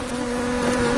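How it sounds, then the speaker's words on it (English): A swarm of honeybees buzzes steadily around a beekeeper at a commercial apiary, a dense close hum with a strong drone tone holding for about a second. "surrounded by all these bees"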